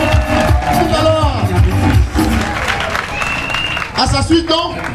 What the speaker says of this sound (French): Ama Kadjo, il faut l'applaudir très fort